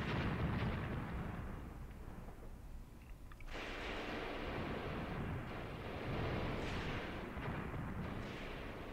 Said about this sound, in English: apparently there's some firing here going on